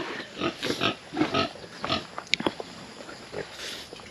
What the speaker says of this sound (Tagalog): Ah, ito yung isa pang baboy.